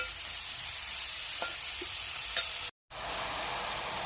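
Onions fry in a pan until soft for an egg curry, a quiet, even sizzle with a few faint stirring taps and a momentary cut in sound near the end.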